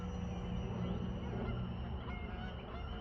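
Geese honk while flying past, a faint, steady cackling of calls over a dense, continuous noise bed.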